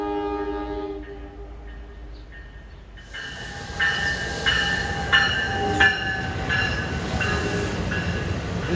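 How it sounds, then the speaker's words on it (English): A nonstop New Jersey Transit express train, locomotive 3943 on the Newark run, roars through Princeton Junction, rising suddenly from a quieter hum of an earlier horn into a loud, close rumble with squealing wheels and clattering rail joints, no talking. "This is one of those hotshot transit trains, 3943."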